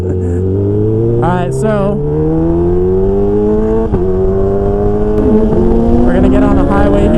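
A Kawasaki Ninja H2 motorcycle engine revs and pulls steadily higher in pitch, loud and close throughout, with a brief shift partway, while someone talks over it.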